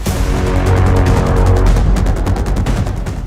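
Rapid bursts of gunfire crackle continuously with heavy explosions booming underneath at a US military base in Turkey, loud and dense throughout with no pauses.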